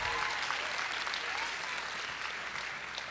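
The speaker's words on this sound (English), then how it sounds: "Just give them a round of applause." Sustained applause from an audience at an elementary school Grandparents Day, clapping for fourth graders who read poems about their grandparents; dense, steady clapping at moderate distance that fades slightly toward the end.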